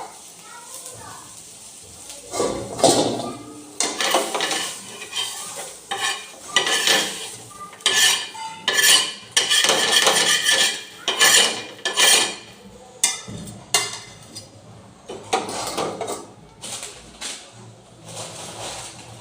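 Fennel seeds scraped and stirred as they dry-roast on a flat griddle pan, a steady clatter of utensil strokes with a faint sizzle, close up, while a person talks over it.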